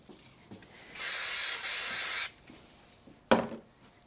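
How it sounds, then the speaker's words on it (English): Spray glue hisses from an aerosol can onto the back of a small card sentiment at a crafting table, one steady near burst of a little over a second, with light handling noises before and after. "I'm going to use a little bit of spray glue on the back"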